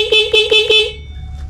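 A loud car horn on a vehicle fitted with mini driving lights gives four quick, close, evenly spaced honks, then stops, leaving a low engine rumble.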